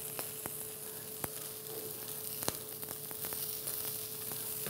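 Thinly sliced ginger sizzles faintly in a hot pan alongside seared venison, a soft continuous frying hiss with a low hum and a few sharp little pops and clicks scattered through it.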